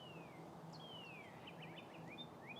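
A northern cardinal singing in a garden, whistled downward slurs followed by a quick run of chirps, faint and somewhat distant over a steady background hum.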